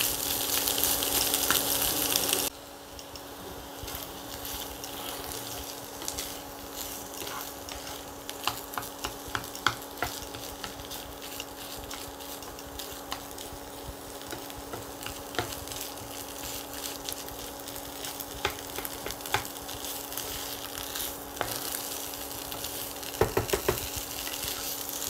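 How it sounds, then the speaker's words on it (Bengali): Potatoes fry in a pan with a constant soft sizzle while a spatula stirs them, giving intermittent scrapes and taps, louder at the start and near the end. "আলুটা একটু নেড়ে নেব।"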